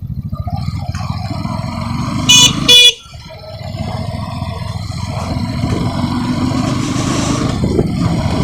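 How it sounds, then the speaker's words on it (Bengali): Motorcycles and traffic at a crowded bike gathering at Eco Park in Kolkata on Vishwakarma Puja day, with a steady engine rumble and a loud double honk of a vehicle horn partway through. "বাবা এখানে তো যে বাইকের মেলা লেগেছে।"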